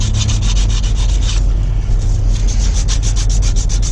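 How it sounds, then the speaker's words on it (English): Sandpaper scrubbing across a front brake disc rotor on a 1999–2004 Ford F-250 4x4, a loud close rasping rub in rapid back-and-forth strokes with a brief pause midway. "You want to sand straight out and just score it up a little bit."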